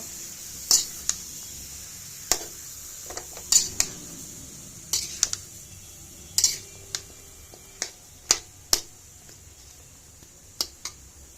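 A spoon stirs bottle gourd and prawn curry in a pan, giving sharp metallic clinks and scrapes at irregular intervals over a quiet background.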